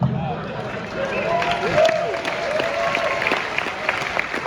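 Audience applause rises as a steady wash of many hands clapping, moderately loud, with some tonal voices blended in for a few seconds.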